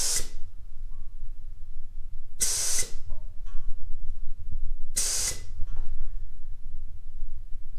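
A Master Pro 44 paint spray gun set at 30 PSI fires three short, sharp hissing bursts, evenly spaced a couple of seconds apart, with a low background rumble between them.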